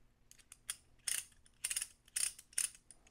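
A METMO Driver screwdriver handle spins on its metal shaft, giving several short bursts of crisp mechanical clicking and whirring, close up, with quiet pauses between.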